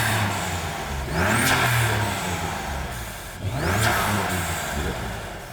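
A BMW F80 M3 engine fitted with front mount intakes revs twice, each blip rising sharply and falling back, with engine noise and whir heard close, no talk.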